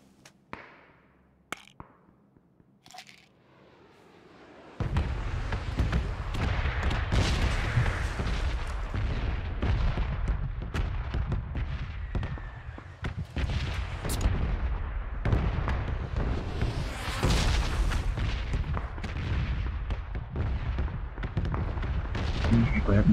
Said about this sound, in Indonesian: Banyak banget suara tembak-tembakan guys.